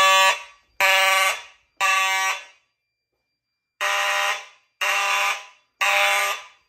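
A 1990s fire alarm system sounding during a test, blaring in harsh buzzy bursts: three loud pulses about a second apart, a short silence, then three more, close and loud with no talking.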